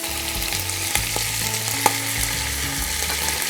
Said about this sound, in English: That beautiful sizzle.